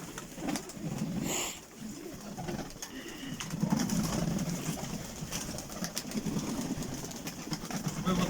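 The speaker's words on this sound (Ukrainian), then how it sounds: "Яка голубочка тут є." A pigeon coos in soft, low repeated phrases nearby, with rustling and some outdoor background noise around it.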